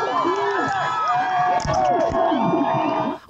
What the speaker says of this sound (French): La foule a acclamé pendant qu'on agressait une journaliste.